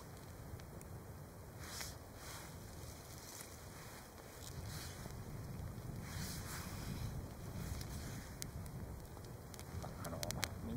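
Steady wind gusting over open water in a Hokkaido river valley, a broad continuous rushing roar with surging gusts and faint wave wash, close and fairly loud, with no voices.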